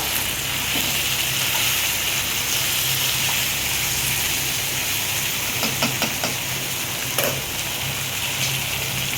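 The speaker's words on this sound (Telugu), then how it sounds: "ఇప్పుడు కొంచెం వేగింది బెండకాయ" Okra for a bhindi aloo fry sizzles in an open pan over a medium flame, a steady hiss of frying like light rain, with a few faint scrapes of stirring.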